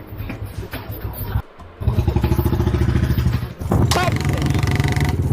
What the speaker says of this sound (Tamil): டேய் புல்லட்னா இப்படி பட்டு பட்டுன்னு ஓட்டினா தானே சும்மா பட்டாசா இருக்கும்